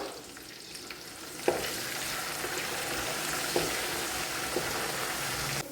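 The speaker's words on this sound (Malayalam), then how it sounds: "ഒരു 2-3 മിനിറ്റ് എണ്ണയിലിട്ടിട്ടൊന്ന് വറുത്ത് കോരിയാൽ മതിയാകും" Ginger fries in oil for a Lakshadweep-style fish pickle, giving a steady, close sizzle with a few sharp clicks of stirring throughout and no talk.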